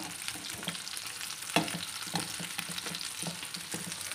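Mutton malai tikki kababs sizzle steadily in a hot pan, with soft scraping and a sharper clatter as the patties are flipped partway through; no talking.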